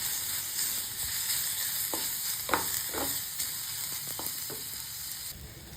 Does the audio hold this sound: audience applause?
no